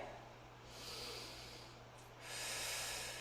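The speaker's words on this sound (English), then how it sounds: "One more deep breath here" During a pilates pose, a person takes a slow, deep breath: a soft, airy inhale followed by a longer, breathy exhale, heard up close and quiet with no talking.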